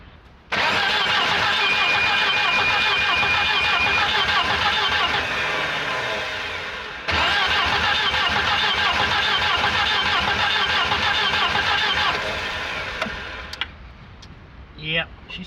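A 1985 Volvo 240, low on compression, cranks long and hard without catching, two sustained bursts of rhythmic starter churning split by a brief pause, close and loud, ending in a few small clicks.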